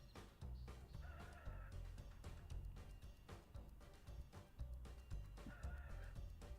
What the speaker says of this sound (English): Why do I hear the rooster?